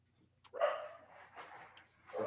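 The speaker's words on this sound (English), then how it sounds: "Why is the dog barking in the middle of the podcast?" A dog barks in the middle of a podcast recording. A sharp yip is followed by a longer, loud bark and a softer trailing one, then a fresh bark starts at the end, set against a quiet room.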